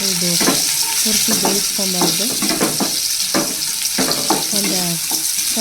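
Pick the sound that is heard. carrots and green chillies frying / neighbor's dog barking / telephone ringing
carrots and green chillies frying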